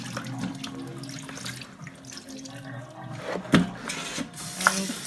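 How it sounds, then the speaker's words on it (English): Tap water running in a kitchen sink while cut-up raw chicken is rinsed clean of vinegar, a steady wash of flowing water with a couple of brief splashes and clunks. "And wash it with some fresh water, because we don't need too much of the vinegar on there."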